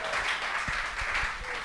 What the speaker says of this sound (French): Applaudissez pour moi, s'il vous plaît, encore.